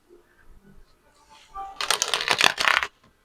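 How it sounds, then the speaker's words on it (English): Tarot cards being shuffled close to the microphone: quiet handling rustles first, then a louder flurry of riffling card snaps that stops abruptly, with no talking. "We're going to give it 4 shuffles."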